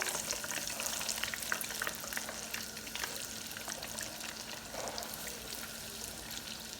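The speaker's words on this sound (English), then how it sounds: "And some of the cheese will ooze out and, you know, fry up" Mozzarella sticks deep-frying in hot oil, a faint, even bubbling hiss with crackly pops, steady and continuous throughout.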